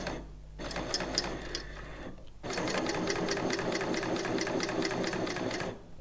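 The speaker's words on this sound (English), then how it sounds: "normally with a cover stitch machine, you can't chain off" Bernina L890 coverstitch machine stitching at a steady, rapid mechanical rhythm, with a brief pause near the start and a longer stop midway before it runs again, close and alone without any voices.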